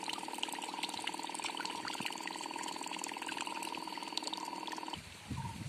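Water mixed with jeevamrut, a liquid fermented farm fertiliser, runs out from a drum into a farm field channel, a steady close flowing and splashing wash with a constant hum, cutting off near the end.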